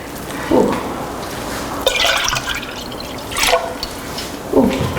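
A liter bottle of vinegar is poured over sliced zucchini for Italian antipasto, with gurgling splashes that come in several bursts close to the microphone.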